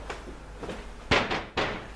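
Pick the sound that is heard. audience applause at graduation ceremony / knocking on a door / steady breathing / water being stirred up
knocking on a door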